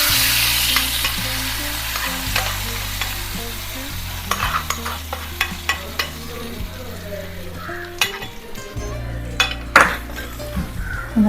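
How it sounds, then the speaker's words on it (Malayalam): Hot tempering is poured into a pineapple pulissery, giving a sustained sizzle with scattered clinks of a metal spoon and vessel, close and fairly loud, with no voices. "ഇനി നമുക്ക് നമ്മുടെ പൈനാപ്പിളിലേക്ക്, പുളിശ്ശേരിയിലേക്ക് നമ്മൾ ഈ താളിച്ചത് ഒഴിച്ചു കൊടുക്കാം."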